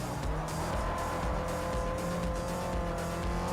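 Race car engine roars steadily with tire squeal in Forza Motorsport 4, a loud continuous drone with shifting engine pitch and no talking.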